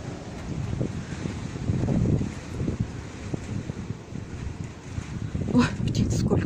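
Strong gusty wind during a storm buffets the microphone in loud, rising and falling roars, with rumbling low gusts throughout and a brief voice near the end.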